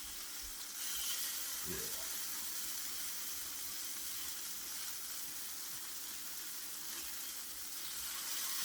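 Sausage frying in a pan while a breakfast of biscuits and gravy is made, a steady close sizzle running throughout with a short clatter near the start and a brief spoken word over it.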